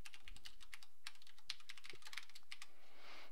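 Quick, irregular keystrokes on a computer keyboard while Java Swing code is typed, a dozen or so crisp clicks close by and fairly quiet, ending in a soft hiss with no one speaking.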